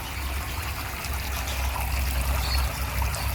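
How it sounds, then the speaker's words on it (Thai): Water gushes steadily into a small fish pond's settling tank, a continuous strong splashing flow without pause or voices. "น้ำไหลแรงนะครับ"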